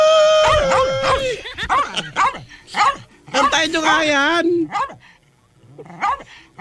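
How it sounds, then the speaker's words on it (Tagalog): A dog barks in short, sharp, angry bursts close by, mixed with yips and whines, while people talk loudly over and between the barks. "Galit yung aso niya."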